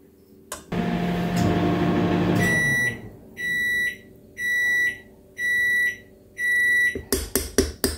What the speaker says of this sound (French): J'ai chauffé un tout petit peu ma crème spéculoos dans le micro-ondes en mode décongélation.